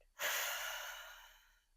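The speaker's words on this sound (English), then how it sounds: "Followed by a big exhale out." One long, deep exhale through an open mouth during a gentle yoga flow, a close, breathy whoosh that swells quickly and fades slowly over about a second and a half.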